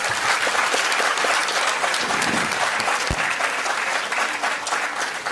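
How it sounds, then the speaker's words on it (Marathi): An audience at a World Parkinson's Day gathering claps loudly and continuously, a dense, even wash of many hands applauding without pause from start to finish. "आपण या सर्वांसाठी पुन्हा एकदा टाळ्या वाजवूया"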